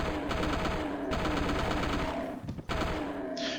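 Rapid continuous chain gun fire in DOOM, a dense stream of gunshots with a brief break near the end, loud and alone without talk.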